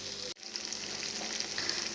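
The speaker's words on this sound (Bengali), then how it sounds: "চিকেনটাকে দিয়ে সুন্দরভাবে আমি একটু কষিয়ে নিচ্ছি।" Chicken sautéing in a pan for a roast, with tomato sauce mixed in, gives a steady close sizzle and crackle throughout, broken once by a brief gap near the start as the food is stirred.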